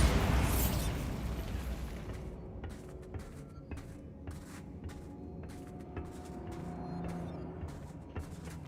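Bombarda spell explosion in the wizarding game Hogwarts Legacy, a loud burst and rumble at the start that fades into scattered crackles and debris pops.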